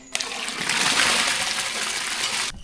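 Water pours into a cooking pot for sambar, a close, steady splashing stream that starts abruptly and runs for about two seconds before cutting off, with no talk over it.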